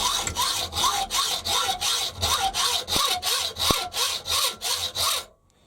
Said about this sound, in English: put two hacksaws or hacksaw blades in the hacksaw at the same time